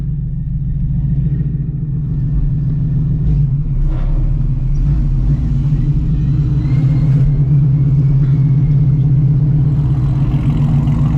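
A 900-horsepower Shelby GT350 drives through Texas city streets at night, its engine a loud, steady low rumble heard from inside the car, with no talking.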